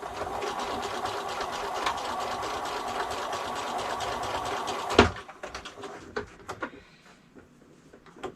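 A sewing machine stitches a quilt block for a scrappy log cabin hearts pattern, running steadily and loudly for about five seconds, then stopping abruptly, followed by a few scattered light clicks and handling noises.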